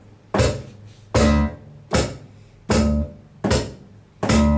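An acoustic guitar played percussively, the strings slapped and the body thumped at once, giving six evenly spaced, loud, punchy hits that each ring briefly before the next.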